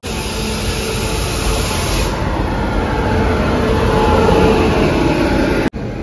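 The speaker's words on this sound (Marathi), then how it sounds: "Patna Mumbai LTT Janata express" The Patna–Mumbai LTT Janta Express rumbles past close by in a loud, steady roar of wheels and carriages, with a high whine running over the rumble and a sudden brief dropout near the end.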